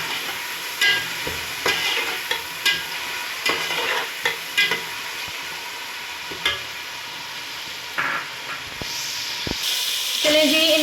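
Three chopped tomatoes stirred into masala frying with salt, heard as a soft sizzle under repeated sharp scrapes and knocks of a spoon against the pot, with a brief hiss near the end.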